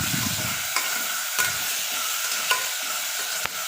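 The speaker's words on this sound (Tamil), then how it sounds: "ஆட்டீரல் சேர்த்து ஒரு நல்ல ஒரு வதக்கி விட்டுட்டோம்" Goat liver sautés in a hot pan, its steady sizzle broken by about five sharp scrapes and taps of a stirring spoon against the metal, close and clear, with no talking.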